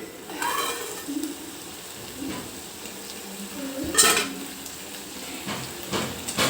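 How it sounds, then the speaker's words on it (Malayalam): Jackfruit seed thoran being stirred in a pan, with scraping spoon-on-metal strokes and clinks spaced across the clip over a soft sizzle of the nearly dried mixture. "നമുക്കൊന്ന് ഇളക്കി കൊടുക്കാം ഏകദേശം വെള്ളമൊക്കെ വറ്റിയിട്ടുണ്ട്"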